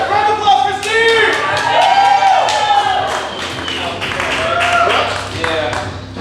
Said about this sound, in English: round of applause for Steve!